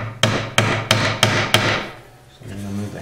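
A 3/8 dowel is struck with a hammer to drive a Floyd Rose tremolo bushing into an electric guitar body, giving five sharp, evenly spaced knocks close by, then a pause and a faint low hum.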